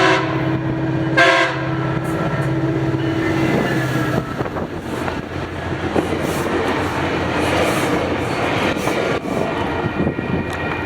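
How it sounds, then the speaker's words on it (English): Northbound FrontRunner commuter train on the Salt Lake subdivision rushing past very close, a loud steady roar with a horn blast near the start and continuous rumble throughout, no voices. "Next up was a northbound frontrunner with 20 leading that almost took out my tripod."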